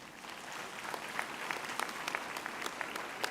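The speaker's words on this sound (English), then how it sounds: "You must applaud yourselves for being so beautiful" Audience applause at a university graduation ceremony, a steady sustained clapping from a large crowd with sharper individual claps standing out, continuous and fairly distant, with no talking.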